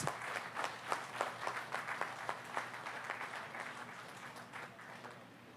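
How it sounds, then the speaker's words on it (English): Audience applause at the inauguration of the Samar Pacific Coastal Road project, a dense, sustained round of clapping from a sizable crowd that holds steady for several seconds before easing slightly. "Thank you, Mr. President, and congratulations to everyone. A big round of applause."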